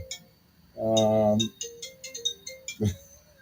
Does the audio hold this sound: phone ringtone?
yes